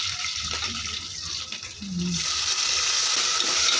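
Onion, peanuts and cloves frying in a pan, a steady bright sizzle with faint stirring throughout, close and moderately loud, with no one speaking.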